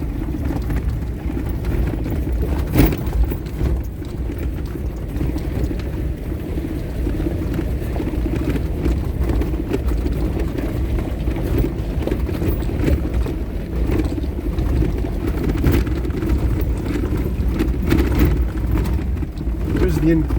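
A Toyota Surf four-wheel drive grinds along a backcountry track in British Columbia in four-wheel low and second gear, its engine a steady low rumble throughout with a few knocks and bumps from the rough ground.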